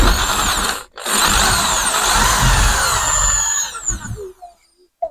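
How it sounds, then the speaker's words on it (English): A power drill bores through wood while a shed is being built, a loud, close, steady grinding whine for several seconds with a brief pause near the start, then slowing and stopping. "I'm going to drill a hole through this now."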